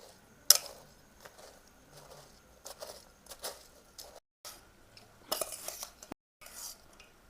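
A spoon scrapes and clinks against a bowl while a puffed rice snack mix is tossed with oil, making sparse, uneven metallic taps and rustles. The sound is fairly quiet, with a few sharper knocks and short pauses.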